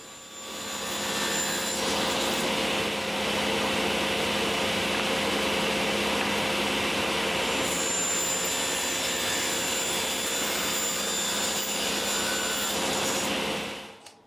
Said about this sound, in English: I'm cutting up various scraps that I had laying around the shop